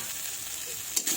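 A steady sizzle of food frying in a pan with ground spices, just uncovered partway through cooking for a cauliflower, tomato and potato fish curry, with a couple of brief metallic clinks near the end.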